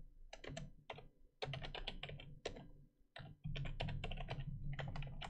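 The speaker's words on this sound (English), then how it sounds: "we're gonna type in here Laura and Arabella." Close, quiet typing on a computer keyboard while writing JSON code, quick bursts of key clicks separated by short pauses.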